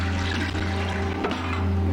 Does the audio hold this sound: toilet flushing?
yes